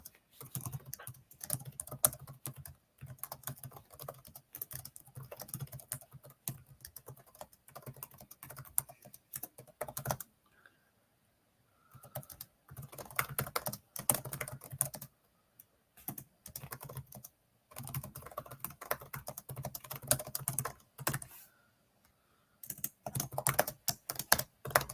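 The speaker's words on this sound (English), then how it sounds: "Sorry if you guys can hear my typing. Yeah, we can hear it. Rapid typing." Rapid typing on a computer keyboard during a severe weather broadcast, bursts of quick close clicks separated by short pauses, fairly quiet and with no voices.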